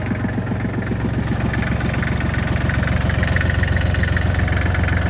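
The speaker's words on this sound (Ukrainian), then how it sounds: "Приємний звук мотора." A small compact tractor engine, a Kubota GL221, idles steadily up close, a low rhythmic chugging with a faint rattle from a loose seal, running alone without any talk.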